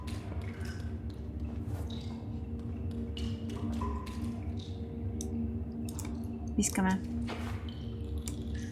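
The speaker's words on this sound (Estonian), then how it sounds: "Aga vähemalt on jooksev vesi olemas." Water drips and taps in a grimy washroom in the video game Little Nightmares II, soft irregular drops scattered over steady low ambience while a person talks over the gameplay.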